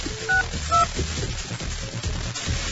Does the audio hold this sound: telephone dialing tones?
yes